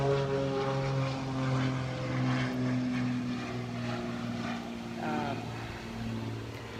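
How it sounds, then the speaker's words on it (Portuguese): A propeller airplane droning overhead, a steady engine hum with strong tonal harmonics that swells and fades slightly while it passes, loud and continuous without speech. "tem um avião"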